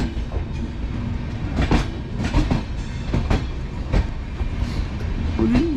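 A train rolls past at a station, giving a rumbling, clattering run of wheel and carriage sounds with rhythmic knocks and a brief squeal.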